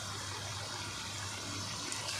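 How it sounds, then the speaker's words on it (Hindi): About half a cup of water poured into a pot of cooking meat for kachnar gosht, a soft continuous splashing hiss at low level with no talking. "अब हम इसको तकरीबन आधा कप पानी डाल के थोड़ा इसको दम दे देंगे 5-6 मिनट के लिए।"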